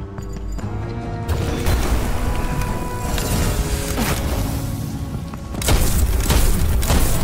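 Sniper rifle shots boom in the video game Witchfire, a few heavy reports within dense, loud game noise that swells near the end.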